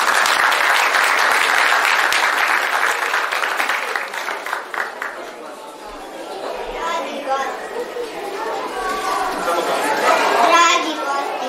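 Audience applause at a children's hat festival in Novi Bečej, loud and dense for about five seconds, then thinning into crowd chatter and children's voices.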